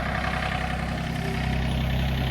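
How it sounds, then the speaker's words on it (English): A Yamaha Trimoto three-wheeler idles steadily in a shop, its low engine rumble holding a constant, even level throughout with no talk over it. "That ain't a tractor, it's a Yamaha Trimoto."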